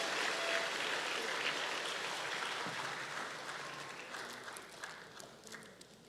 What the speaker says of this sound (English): May we show our appreciation to our guest speaker with a well-deserved round of applause.